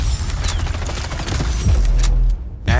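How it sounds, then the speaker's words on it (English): An automated scrap turret machine gun from XDefiant fires a loud, rapid stream of shots mixed with heavy booms and mechanical clatter, then breaks off briefly before another burst. "their scrap turret, an automated machine gun that rains hell on enemies"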